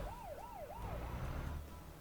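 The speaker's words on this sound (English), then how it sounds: "Because there's a police car behind me." Wailing police car siren in the video game Euro Truck Simulator 2, rising and falling in a fast regular cycle, fairly faint behind steady engine and road noise, with no talking.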